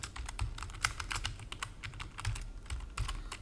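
Fingers tap rapidly on a computer keyboard, a quiet, close run of irregular key clicks with short pauses between bursts.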